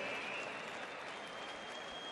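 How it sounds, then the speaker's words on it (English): Crowd applause at Marlins Park during a baseball home opener against the Braves, a steady, dense wash of clapping and cheering that fills the whole moment without a break. "Fans, how about a nice round of applause for Colleen Brennan."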